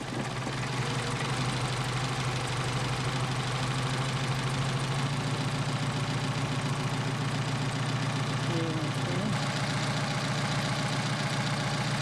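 A Mercedes 190SL engine idling on Solex 44PHH carburetors during adjustment, a steady, continuous low hum and mechanical rattle heard close by, unchanging throughout.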